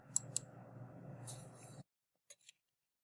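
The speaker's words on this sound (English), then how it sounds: "I am going to type in Kenny and click on the author button." A few quiet computer mouse clicks and light keyboard taps over a soft background hum, followed by near silence and two last faint clicks.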